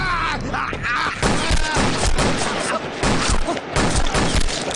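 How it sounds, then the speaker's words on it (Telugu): Rapid volleys of gunfire burst out during a robbery scene in a Telugu-dubbed CBI action film, dense cracks and thuds packed over a loud, busy mix with shouting voices. "ఎవర్రా షూట్ చేస్తున్నది? ఎవరు కాల్చింది ఎవర్రా?"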